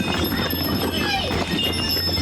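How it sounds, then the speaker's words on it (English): Donkey hooves clip-clop on a steep stone path down the cliffs of Santorini, Greece, a close, continuous patter of hoofbeats with voices in the background. "We decided to opt for the donkey ride rather than walk it down because it's pretty steep."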